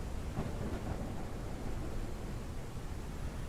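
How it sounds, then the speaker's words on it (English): A massive thunderstorm in the mining game Out Of Ore, with a steady broadband rumble of rain and low thunder filling the scene at moderate level, no speech. "this storm is really kicking our ass"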